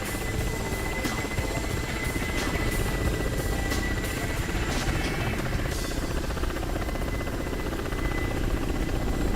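A helicopter in DCS World spins up its engine and rotor, a steady loud turbine whine and rotor drone filling the whole stretch with a constant high tone throughout.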